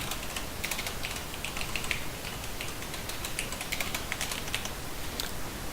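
Keys on a computer keyboard are typed in quick, irregular bursts of soft clicks, close and fairly quiet, with a steady background hiss and no voices.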